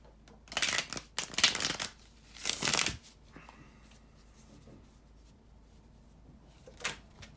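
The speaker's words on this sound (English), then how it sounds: "to shuffle the tarot cards" Tarot cards being shuffled in a few brisk riffling bursts, close up, followed by quieter handling and one final short shuffle.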